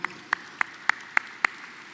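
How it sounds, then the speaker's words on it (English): At the 75th Easter Beef cattle sale auction, six sharp hand claps ring out one by one at a slow, even pace against a quiet room hum. "There's a big round of applause."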